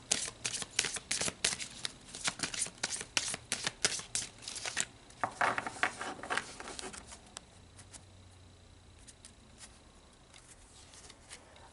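Tarot or oracle cards being shuffled close by, rapid riffling and slapping for about seven seconds, then fading to quiet handling, with no talking.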